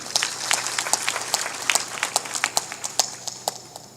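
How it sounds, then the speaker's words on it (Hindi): Applause at a Hindi religious discourse gathering for a saint, steady crowd clapping with scattered sharper individual claps, moderately close and lively throughout. "ताली बजाओ इनके लिए।"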